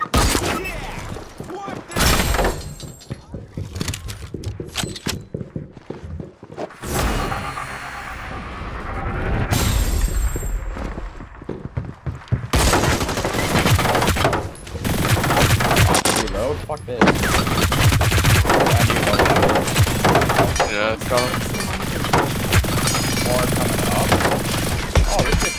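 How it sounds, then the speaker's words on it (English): Rapid bursts of gunfire from a gun in the video game Hyper Scape, dense and loud fusillades that stop and restart, with a player talking over much of the shooting. "my gun won't shoot quickly"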